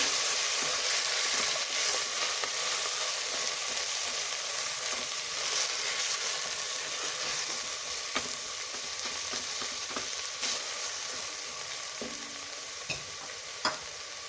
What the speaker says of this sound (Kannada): ಕೊತ್ತಂಬರಿ ಒಂದು ಕಪ್ಪು ಹಾಕಿ ಚೆನ್ನಾಗಿ ಎಲ್ಲ ರೋಸ್ಟ್ ಆಗಿ